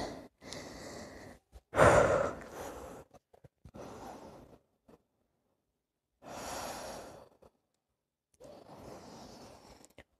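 Slow, deep breaths during a vinyasa yoga flow, several long audible inhales and exhales separated by quiet pauses, close and clear, one breath noticeably stronger near the start.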